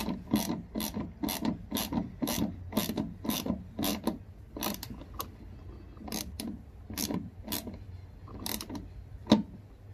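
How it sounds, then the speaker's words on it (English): A 13mm gear wrench ratchets in quick bursts of sharp clicks, about a dozen evenly paced strokes with short pauses between them. The sound is close and clear, with no talk over it. "Okay, so I got my handy dandy 13mm gear wrench."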